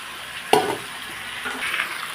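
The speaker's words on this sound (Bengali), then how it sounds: "এই জলটা এখন মাংসের মধ্যে দিয়ে দেবো এই গরম জলটা" Hot water hits goat meat in a hot wok with a sudden loud splash and burst of sizzling, settling into a softer bubbling hiss.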